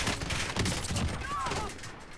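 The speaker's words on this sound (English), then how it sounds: "That's the burst FAMAS" Burst-fire FAMAS rifle shots in the Warzone video game, a dense crackle of gunfire blended with explosive game noise and a brief rising whine, fairly faint and cluttered.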